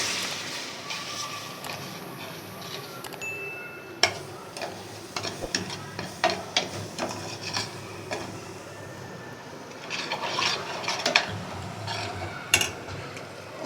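A spoon is stirred quickly through a gram flour barfi mixture with milk in a pan, making steady scraping with scattered sharp clinks against the metal, close up and without talk.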